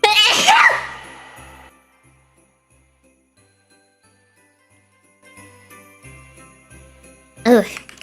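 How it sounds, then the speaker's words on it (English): A single sharp sneeze right at the start, close and loud, followed by quiet with faint soft background tones and a brief vocal burst near the end. "I think I have to sneeze."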